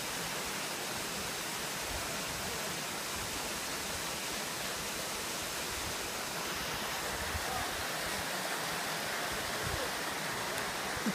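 Waterfall at Seven Falls, a steady broadband rush of falling water filling the whole stretch, with faint voices barely present beneath it.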